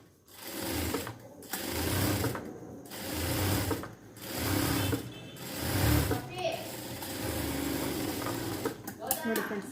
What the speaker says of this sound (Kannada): ಇದ್ರ ಮೇಲೆ ಒಂದು ಹೊಲಿಗೆ ಹಾಕೋಣ